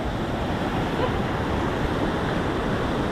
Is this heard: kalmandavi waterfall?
yes